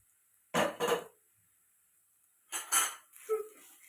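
Grated coconut frying in a pan for coconut payasam, stirred in two separate bursts of scraping, clinking spoon-on-metal sound, with a quieter sizzle and a stroke at the end; no voices.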